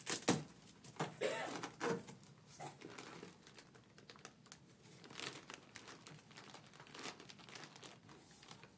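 A courtroom evidence package is cut open with scissors, giving close crinkling and tearing of plastic and paper with a few sharp snips, irregular and moderately quiet.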